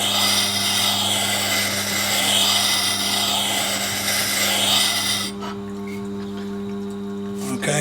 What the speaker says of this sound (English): we'll just grind them dents out of it